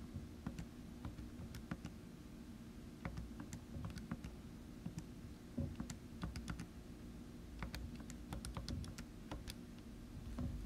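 Rapid, irregular key presses on a calculator keypad as numbers are entered, sharp small clicks tapping in bursts over a steady low room hum, with no voices.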